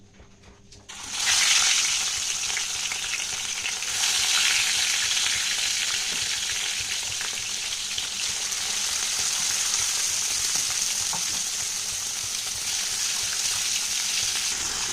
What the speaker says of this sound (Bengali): তেল অনেকটাই গরম হয়ে গেছে দিয়ে দিচ্ছি মাছগুলো